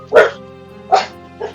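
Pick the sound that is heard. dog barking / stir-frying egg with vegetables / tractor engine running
dog barking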